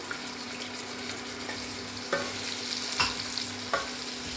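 Crushed garlic and white brinjal fry in a pan with a steady, quiet sizzle, broken by a few soft stirring scrapes.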